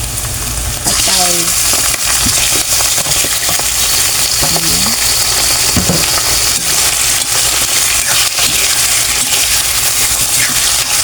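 Chicken liver for adobo hits a hot pan and fries with a loud, continuous sizzle, broken by a few scraping and clinking stirs near the start, all heard close up.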